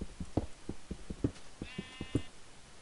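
A Minecraft sheep bleats once, faint and brief, among soft rhythmic in-game footsteps or clicks, with no talking.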